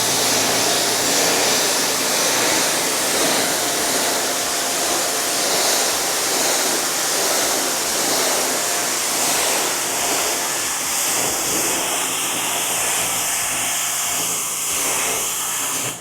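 Steady, loud rush of water from a hose rinsing a ceramic-coated car during a first wash, continuous hiss with no talk.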